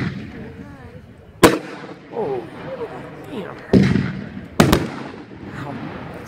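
A 500 gram fireworks cake called Shoot the Moon fires at a consumer fireworks demo. Sharp, loud reports land irregularly, with fizzing and crackling between them and quieter shots in the background.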